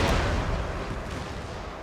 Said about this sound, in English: Oh, that must be enemy cannon.